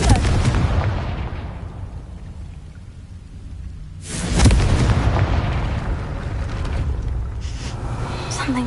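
A Confringo spell explosion bursts in a Harry Potter video game: a heavy boom at mid-clip after a rushing rumble, with loud debris and a long roar that keeps going afterward.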